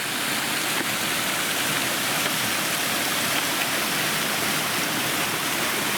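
Morrison Creek in the Tuolumne River canyon rushes past close by, a loud, dense, unbroken roar of flowing water with no voices.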